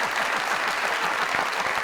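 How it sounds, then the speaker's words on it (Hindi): A studio audience on a comedy talk show breaks into brisk, continuous applause, loud and even throughout the short burst. "तालियां दो"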